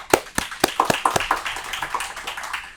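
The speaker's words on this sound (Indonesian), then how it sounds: "tepuk tangan buat Om Ben ya" Scattered hand claps from a small group in a talk-show studio, a few sharp claps then a sparse, uneven patter fading out over a few seconds.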